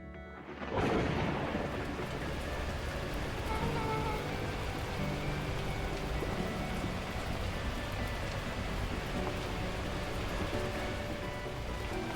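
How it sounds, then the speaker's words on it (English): Thunderstorm with torrential rain in the video game Beacon Pines, a sudden thunder crack followed by a loud, steady downpour roaring without pause. "At that moment, the heavens opened up, unleashing torrential rain."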